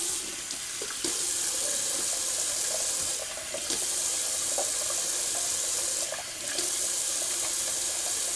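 Tap water runs steadily into a sink while alum is rinsed off after a shave, with a constant close splashing flow and a few brief interruptions as hands move under the stream.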